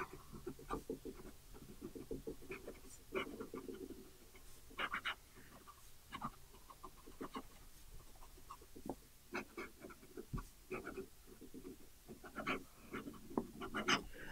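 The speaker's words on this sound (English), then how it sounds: "Looking at fast writing" A brass fountain pen writing quickly on paper, giving soft, close scratchy strokes in irregular bursts with short pauses, faint and alone.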